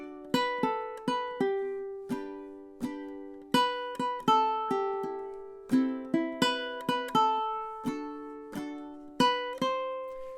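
Ukulele plucks measures 11 to 14 of a song in time, bright single notes and light chords with quick decays in a steady rhythm, close and fairly soft, no talking.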